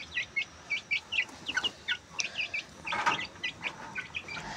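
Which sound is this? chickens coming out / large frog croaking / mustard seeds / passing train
chickens coming out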